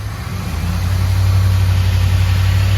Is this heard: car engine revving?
yes